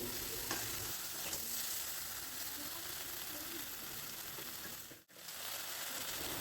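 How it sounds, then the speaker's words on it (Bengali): Okra pieces stir-fried on high flame: a continuous, close frying hiss with faint scrapes of stirring, briefly cutting out near the end before resuming. "এবার ভেন্ডিগুলোকে নাড়াচাড়া করে ভেজে নিতে হবে প্রায় পাঁচ থেকে ছ মিনিট"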